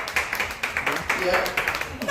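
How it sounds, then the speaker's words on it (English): A small group claps at a quick, uneven pace, sharp short slaps repeating through the moment while a voice talks underneath. "Clap for that."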